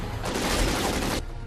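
A single burst of gunfire from a PlayStation game, a dense, loud broadband blast lasting about a second as a character peeks out from cover, then cutting off abruptly.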